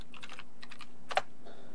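Typing a username and password on a computer keyboard, a short run of light key clicks in two bursts with a sharper keystroke near the end, close and quiet with no talking.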